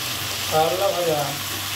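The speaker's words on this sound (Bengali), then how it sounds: "কারলা ভাজা" Bitter gourd (karela) fries in hot oil in a home kitchen pan, a close, steady sizzle with a brief louder crackling swell near the middle, and no voices.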